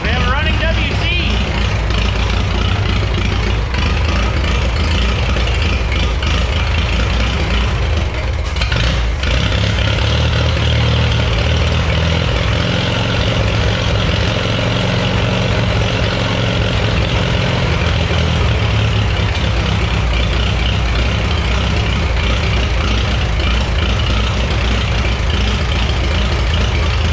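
An unstyled Allis Chalmers WC tractor engine runs steadily and loudly for the whole stretch, a dense continuous rumble with people talking over it.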